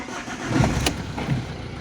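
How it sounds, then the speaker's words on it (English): A diesel car engine starts for DPF regeneration with a short cranking burst, then settles into a steady, fairly loud rumbling idle, heard alone. "So it's asking me to start the engine."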